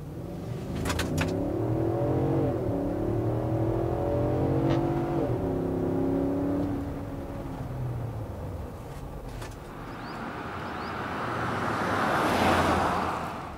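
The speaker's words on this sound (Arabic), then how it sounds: "خلينا نجرب تسارع انفينيتي كيو اكس 80 مع بعض" A 2014 Infiniti QX80 SUV accelerates hard, its engine note climbing through several gear shifts and close and loud inside, then easing into road and wind roar.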